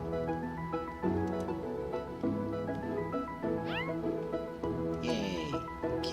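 A cat in the Staxel video game meows repeatedly, several short high-pitched meows and a drawn-out yowl over soft game music, with a person talking faintly.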